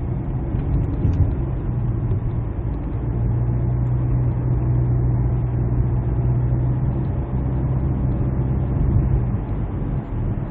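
A seven-year-old Hyundai Santa Fe engine pulls steadily while accelerating on the road. The drone is low, continuous and fairly loud, with cabin rumble throughout and no speech.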